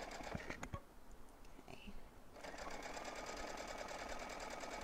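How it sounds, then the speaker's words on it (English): A sewing machine stitches fabric for a face mask, starting with a few tapping clicks before settling into a steady, fast mechanical whir, close and fairly quiet. "I'm gonna sew all the way to the end, do a little backstitch"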